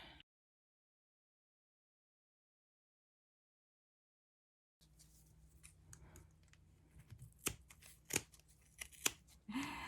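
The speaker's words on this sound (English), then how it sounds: "Then cut down the grooves." Scissors cutting grooves during a tulle pompom clothespin angel ornament craft, a few crisp snips up close after a long silent stretch.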